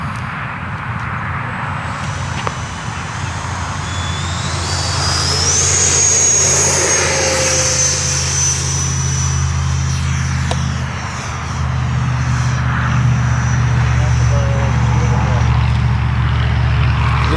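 A radio-controlled model airplane, fresh from landing gear repairs, flies past at an RC club field, its thin engine whine rising and sweeping in pitch, louder in the middle, with a person talking over it.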